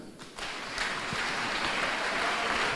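A church congregation breaks into sustained applause, a dense wash of clapping that swells after a brief pause and holds steady, fairly loud and close throughout.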